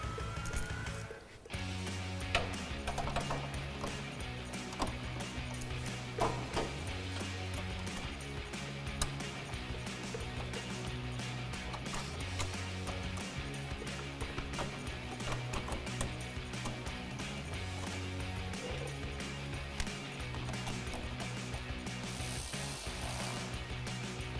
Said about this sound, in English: I'll throw a ratchet on the other end to tighten these down